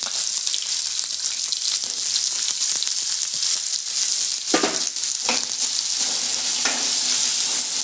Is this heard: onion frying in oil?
yes